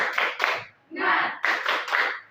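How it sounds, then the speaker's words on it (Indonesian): A classroom of students does a rhythmic spirit clap, with groups of quick sharp claps alternating with a shouted chant from the class, close and loud in a short repeating pattern. "Kita tepuk semangat. Satu dua, ya. Tepuk semangat."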